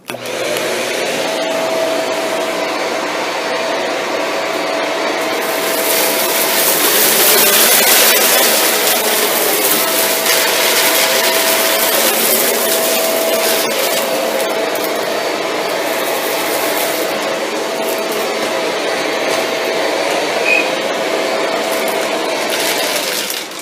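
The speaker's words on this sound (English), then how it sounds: "The vacuum will have the brush bar off. That means it's in hard floor mode." A Shark Rotator Lift Away Speed NV682 vacuum runs in hard floor mode with the brush bar off, a loud steady whine with a sustained tone that swells briefly mid-run, heard alone and up close.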